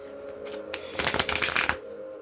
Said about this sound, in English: I usually pre-shuffle the cards